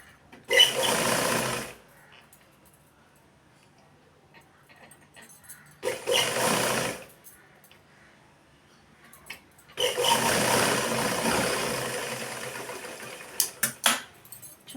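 A sewing machine stitches cloth in three bursts, one short, one brief and one longer, with quiet pauses between them and a few small clicks near the end.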